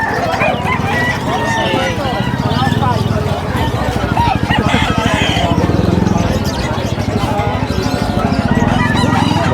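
Fighting roosters crow and cluck over a dense, loud clamor of poultry at the Bocaue pets and livestock market, mixed with constant nearby chatter of people.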